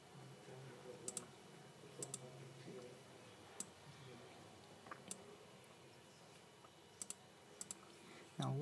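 Sharp isolated computer mouse clicks, about eight spread irregularly over the stretch, close and crisp against a quiet room hum while navigating iTunes.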